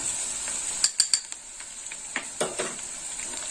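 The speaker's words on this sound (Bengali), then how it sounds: "একটু আদা রসুন বাটাটা কষে নেব" Ginger garlic paste sautéing in a pan for egg masala curry: a steady high sizzle with a few sharp scrapes and taps of a spoon against the pan, close up and with no voices.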